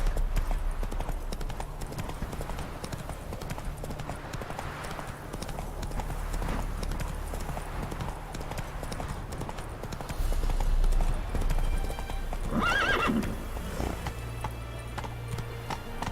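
Horse hooves clip-clop in a steady galloping rhythm in The Witcher 3 video game, with a brief whinny partway through over ambient game background, no talking.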